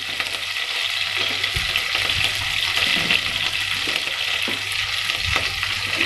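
Vegetable biryani mixture with green chillies, coriander, curry leaves and mint being stirred in a hot pan: a steady close sizzle of frying with soft scraping stir strokes running through it, no talk.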